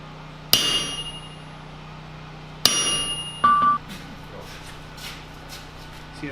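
A hammer striking a cold chisel to cut metal on an anvil during a blacksmithing class: two sharp, ringing metallic strikes a couple of seconds apart, followed by a brief higher clang over quiet room noise.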